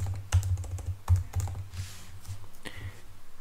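Typing on a computer keyboard, with irregular bursts of close, crisp key clicks and a few louder strokes, no talking.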